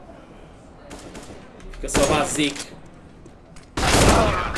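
Bursts of rapid gunfire in CS:GO at a LAN tournament match, two loud clustered volleys a couple of seconds apart, with a commentator's voice talking in between.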